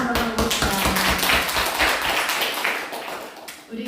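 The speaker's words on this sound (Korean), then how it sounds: "박수 한번 해봅시다." A church congregation breaks into dense, steady applause, many hands clapping together in a continuous rattling wash that fades slightly toward the end.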